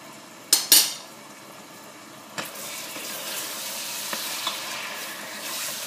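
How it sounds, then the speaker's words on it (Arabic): Meat and liver fry with spices in a pan, a soft sizzle under a few sharp metal utensil scrapes and knocks as the pieces are stirred, with no talk. "نقعد نحرك هكاك دقيقتين حتى اللحم ياخذ لون"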